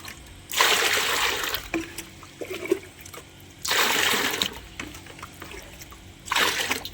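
Water is poured into a tub for soaking clothes before washing them by hand, arriving in three loud splashing gushes separated by quieter trickling and drips.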